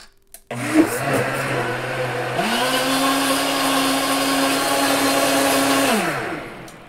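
A Philips HR3868 high-speed power blender spins up and runs at full speed, a loud, steady motor whine that shifts pitch once as it ramps, then winds down at the end with no talk over it.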